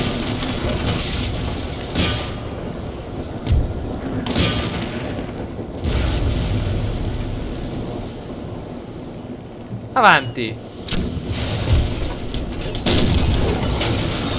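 Ship cannons boom in broadside volleys during a stormy naval battle in the PC game Empire: Total War, several heavy blasts spread across the stretch with someone talking over them.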